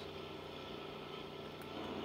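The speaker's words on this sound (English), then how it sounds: "Alright, we're going to start mowing now." In a farming video game, a mower works a field as a steady, even engine drone with a faint broadband hiss. It is quiet and continuous throughout, with no speech.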